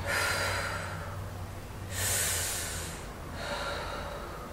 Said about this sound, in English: now I'm going to exhale and it's going to go in